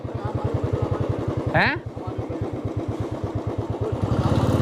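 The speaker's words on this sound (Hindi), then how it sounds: "अरे नहीं बाइक से जाते हैं, मैं तो जाता हूँ।" Motorcycle engine idling with a steady low, rhythmic putter on the way to a cave near Neelkanth; a brief rising rev cuts in midway, and someone speaks briefly over it.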